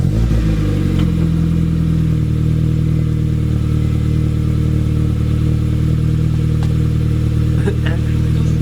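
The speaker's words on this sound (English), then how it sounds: "I want to hear what it sounds like without a muffler." Honda Fit GD3 engine running with the muffler removed, a loud, steady raw exhaust drone with a rough low rumble that starts slightly higher and settles into an even idle-like hum throughout.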